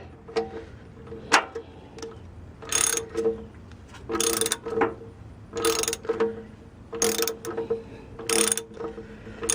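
Ratchet wrench tightening the transmission drain plug on a Nissan Frontier, a crush washer under the plug: bursts of close, crisp ratcheting clicks repeat in short strokes, about six runs with brief pauses between them.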